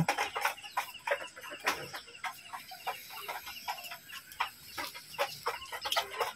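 Several desi chickens cluck busily and continuously nearby on a farm, with overlapping short calls and a few louder squawks.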